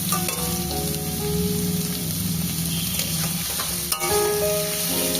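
Pumpkin pieces frying with onion in a pan, a steady close sizzle broken by scraping stirs of a spatula, continuous throughout with no voices.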